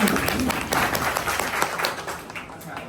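An audience at a college farewell reception clapping, a close, dense patter of many hands that holds steady for a few seconds and then eases slightly, with a few voices mixed in.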